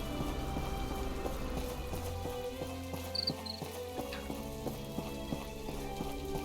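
Steady rain patters across the ground in My Time at Portia, a soft continuous hiss lying beneath layered game music that runs throughout.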